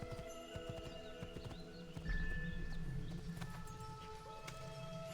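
Horse hooves clip-clop at the stables in Assassin's Creed II, a steady stream of close, rhythmic hoofbeats with a whinny, set against a busy game soundscape of ambient tones and music.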